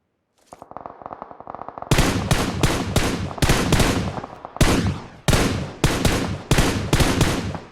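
Gunfire in the mobile battle royale game PUBG Mobile: a few light scattered shots, then sustained loud automatic bursts fired in quick repeated volleys, close and dominant, with no voices.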